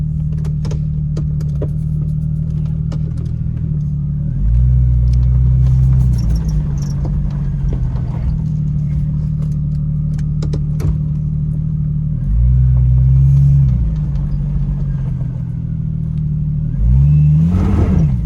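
A 1999 Jeep Cherokee 4.0 engine held in first gear on the brakes, a loud steady idle rumble with three short revs that swell and drop back, close and continuous.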